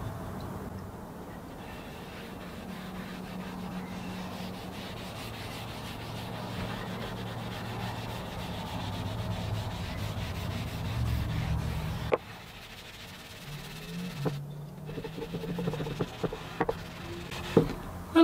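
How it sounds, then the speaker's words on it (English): A coat of finish is rubbed onto an aspen wood piece, heard as a soft, continuous rubbing and wiping hiss at low level, with a pause and a few light knocks toward the end and no speech. "First I'll apply a coat of finish to the inside. This is mainly just to seal the piece up."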